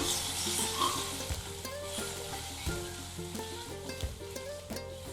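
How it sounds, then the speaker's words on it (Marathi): Onion sautéing in a pan, giving a steady close sizzle broken by irregular scraping and stirring strokes. "कांदा घालूया, छान परतून घेऊया आपण."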